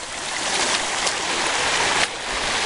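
Water rushing steadily through a gold sluice while concentrates are fed in, a loud close broadband gushing flow with a brief splash near the end, no talking.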